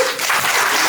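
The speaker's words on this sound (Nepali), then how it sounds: "ताली बजाइए।" Guests at a wedding ceremony break into applause right after the vows, a brief, loud burst of clapping lasting about a second.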